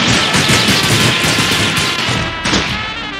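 Sustained rapid gatling gun fire from the brawler video game Slaps & Beans, a dense, loud, continuous burst of shots and impact crashes with a brief lull before another surge near the end.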